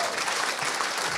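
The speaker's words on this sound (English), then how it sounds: "It's our first round of applause" A studio audience breaks into a brief, dense burst of applause at a football discussion, steady and fairly loud throughout.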